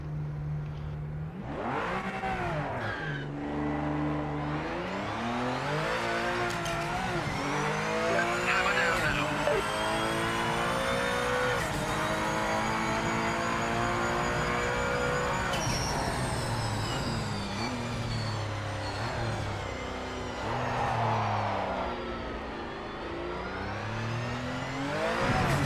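A race car in the Project Motor Racing video game revs hard and continuously, its engine pitch sweeping up and down through gear changes, with tire squeal and skidding mixed into the loud, unbroken roar.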